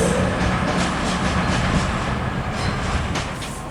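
A two-coach ScotRail train sits at a station platform, heard as a steady, close rumble of diesel engine and wheels with faint clicks over it. No one speaks.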